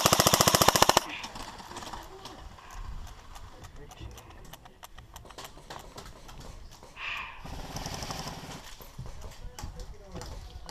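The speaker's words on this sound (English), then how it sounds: "let's shoot at him, see what he does." Airsoft guns fire at an outdoor skirmish game in Switzerland: a fast, loud burst of rapid shots opens, then scattered sharp pops and shorter bursts continue through the rest, with players talking throughout.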